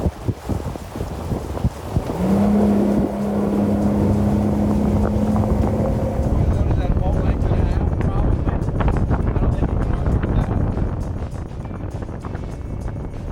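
A boat powered by a Suzuki 250SS outboard engine runs steadily, the engine quiet beneath loud, continuous wind buffeting the microphone, with a tonal hum rising briefly and someone shouting over it throughout.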